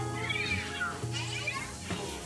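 A ghost cat in the Luigi's Mansion 3 video game gives several clear, drawn-out meows in quick succession, close and moderately loud over a steady game music bed.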